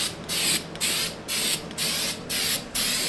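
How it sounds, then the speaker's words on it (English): Spray-on undercoating applied to the underside of a Mazda RK-K truck: about six short hissing bursts of aerosol spray in a regular rhythm, each lasting under half a second, loud and close, with no talking. "Light coat. This is only getting one spray, Trap."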